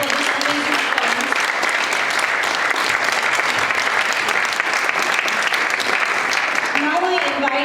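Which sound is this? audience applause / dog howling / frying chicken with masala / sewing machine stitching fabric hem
audience applause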